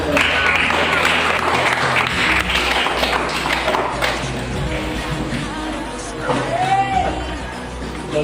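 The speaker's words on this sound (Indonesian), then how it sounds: "Mari kita sama-sama memberikan tepuk tangan untuk" Classroom applause for student groups that have just presented their discussion results, loud mixed clapping with a voice talking over it and background hubbub throughout.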